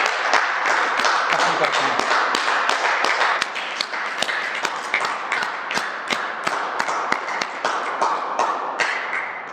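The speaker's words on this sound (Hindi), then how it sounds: "तो जब हम ऐसे तालियां बजाते हैं तो हमारी एक्यूप्रेशर थेरेपी होती है" During a yoga routine's laughter pose, a person claps firmly in steady rhythm, dozens of sharp, close, evenly spaced hand claps continuing throughout, with a few spoken words near the start.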